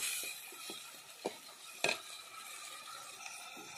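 Tomatoes sauté in a pan for a Tamil home-cooked chutney, with a soft steady sizzle and a few sharp clinks of a spoon stirring against the pan, all faint and close, with no voices.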